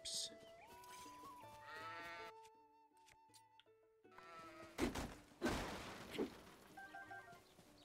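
Sheep bleating at a stable in Zelda: Tears of the Kingdom: a few clear, near bleats ring out over light game music, followed by louder bursts of speech.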